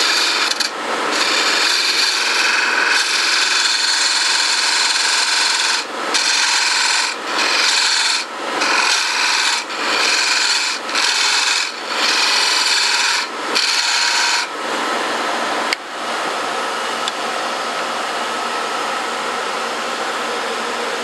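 Wood lathe cutting a tapered pipe thread on a turned walking stick: a loud, continuous rasping drone broken by several brief gaps as the cut stops and restarts.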